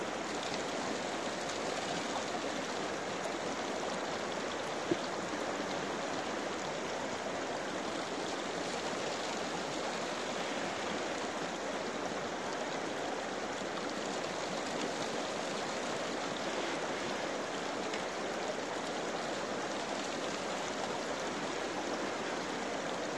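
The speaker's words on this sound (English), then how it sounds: "This is Rock Bottom Creek." Steady rushing of Rock Bottom Creek in Pennsylvania, a constant broadband babble that stays even throughout with no voices.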